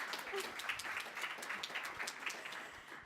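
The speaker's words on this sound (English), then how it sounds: "Yep, give them a clap." Applause and clapping for students in a school drama class, a steady patter of many hands lasting about three seconds at moderate loudness with no voices over it.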